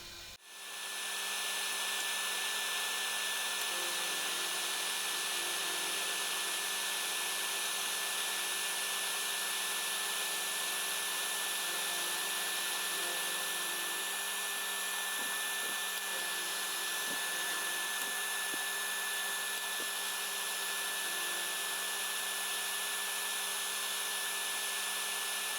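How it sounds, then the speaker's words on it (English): A vacuum runs steadily while cast iron is machined in a workshop, a loud, constant whine and rush lasting throughout, with a few faint knocks from the work partway through. "I use a vacuum where possible."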